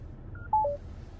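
The infotainment system of a Hyundai Avante CN7 facelift plays a quick run of three short electronic dialing tones, clear and close, over a low cabin hum.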